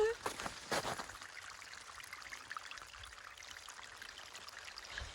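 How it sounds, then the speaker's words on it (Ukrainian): Water running like a small stream at a work site, a steady faint rushing trickle with a couple of louder bumps at the start. "диви, прям річка тече"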